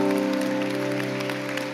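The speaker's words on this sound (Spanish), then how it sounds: "Dale un aplauso al Señor" A church congregation breaks into applause during a revival service, a short burst of clapping over a sustained tonal hum that fades slightly as it ends.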